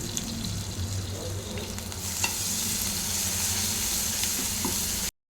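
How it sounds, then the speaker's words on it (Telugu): Green chillies and ginger garlic paste fry in oil with a continuous close sizzle and crackle, broken by occasional stirring scrapes, then cut off abruptly. "ఇది కొంచెం ఆయిల్లో ఫ్రై అవ్వాలి పచ్చిమిర్చి ఫ్రై అయిందండి"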